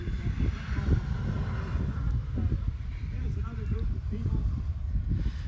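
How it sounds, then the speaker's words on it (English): American Airlines commercial jet passing over Fort Wayne International Airport, a continuous low engine roar steady throughout, with indistinct voices faint in the background. "That plane you're hearing is a commercial jet,"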